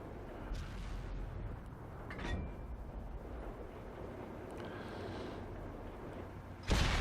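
A tank gun in a World War II tank video game fires a single blind shot, a heavy boom standing out from a steady low rumble of engine and battle noise, with a sharp blast near the end.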